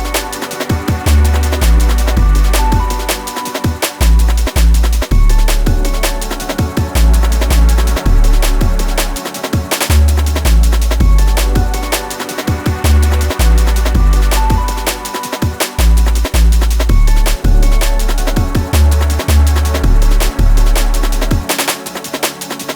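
A deep electronic jungle bass line pulses steadily in time beneath a full, loud mix of drums and synths, holding a repeating rhythmic pattern throughout.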